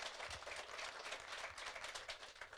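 Congregation applauding at a Catholic church service, a dense, steady wash of many hands clapping at moderate distance with no voices over it.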